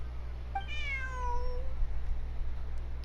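A cat in a video game lets out one clear, drawn-out meow with a falling pitch, close and distinct over a low steady hum, with nothing spoken.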